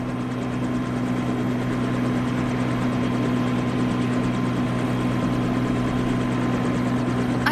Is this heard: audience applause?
no